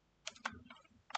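Text being typed on a computer keyboard in Photoshop, a few quiet, separate key clicks spaced unevenly over a soft, near-silent background.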